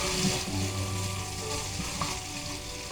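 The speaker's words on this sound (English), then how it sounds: "I'm going to fry the onions" Onions frying in a pan give a steady, close sizzle that runs unbroken from start to end, with no voices.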